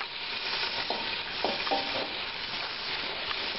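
Squid pieces fry with onions in a pan, giving a constant, close hiss and crackle with a few light scrapes and stirring knocks mixed in.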